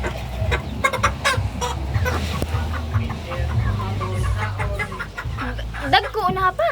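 Rhode Island chickens cluck steadily around a farmyard, close and fairly loud, with a rooster-like call near the end while people chat over the birds throughout.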